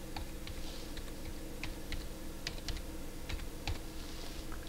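Rapid, uneven keystrokes on a computer keyboard while a passphrase is entered during setup of a Linksys 54G router, close and steady over a low background hum, with no talking.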